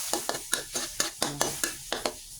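Fish and onion stir-fried in a wok for a celery fish dish, a spatula scraping in about ten quick rhythmic strokes over a faint sizzle, close and fairly quiet.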